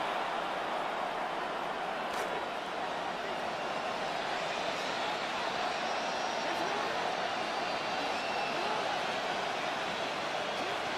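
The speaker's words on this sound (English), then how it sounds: "This crowd making its presence felt early." A steady, dense roar from a stadium crowd in the Madden 27 football video game, unbroken and fairly even in level throughout.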